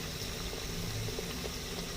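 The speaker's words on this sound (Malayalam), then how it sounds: "നമ്മൾ ഇഡലി ചെമ്പിൽ വെള്ളം തിളപ്പിച്ചിട്ടുണ്ട്." Water boils in an idli steamer pot, heated to steam Pesaha appam, as a steady, quiet bubbling hiss with a low rumble that runs evenly throughout.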